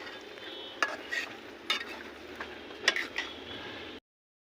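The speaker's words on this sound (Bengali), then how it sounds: "নিম পাতা, তারপর মেহেদির পাতা, তেলাকুচু শাক। এবার একটু নাড়া দিয়ে নিলাম।" Neem, henna and telakucha leaves are stirred in homemade hair oil, giving soft scrapes and a few light clinks of a spoon against the vessel. The stirring is quiet and close, over a faint low sizzle, and cuts off abruptly.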